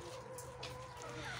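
Hens in a backyard coop cluck softly and steadily, close by, over a constant low hum with no talking.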